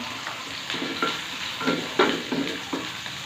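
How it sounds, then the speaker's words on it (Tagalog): Liver and garlic sautéing in a frying pan, a steady sizzle broken by several clinks and scrapes of a spatula being stirred. "dito sa isang kawali, igisa natin yung atay. So, igisa na natin yung bawang"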